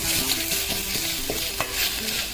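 Freshly grated coconut stirred in a pan for sweet rice kheer gives a continuous soft sizzle with repeated spatula scrapes and taps against the pan, close and moderately loud with no talking.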